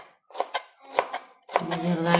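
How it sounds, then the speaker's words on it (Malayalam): Raw mango for pickle is chopped into small pieces with a knife: a handful of sharp, close cutting taps in quick pairs, separated by short pauses, with a faint tonal hum near the end. "മാങ്ങ ഇങ്ങനെ ചെറുതായിട്ട് അരിയണം."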